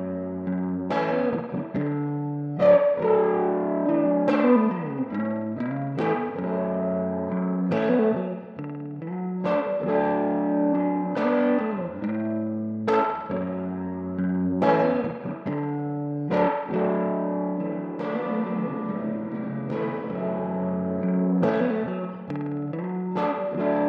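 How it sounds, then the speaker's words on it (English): Electric guitar processed with mild saturation and a flanger plays a sustained, chordal melodic passage with sweeping, swirling tones and echo, steady and continuous throughout at moderate level, with no talking. "We have a bit of mild saturation and a flanger."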